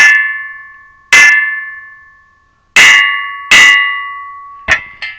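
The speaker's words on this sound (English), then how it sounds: "here's a cheap welding test, how your welds are. If it rings, you did good." Welded steel bee hive lifter for Warre and Japanese hives, struck about six times so it rings out with a bright metallic clang that sustains and slowly decays between hits, loud and close with no talk.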